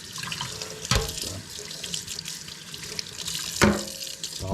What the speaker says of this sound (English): So we'll probably add a little bit of water.